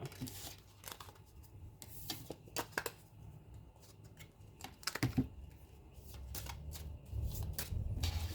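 A deck of tarot cards is shuffled by hand nearby, giving quiet, irregular bursts of riffling and soft card slaps with brief pauses, growing busier toward the end.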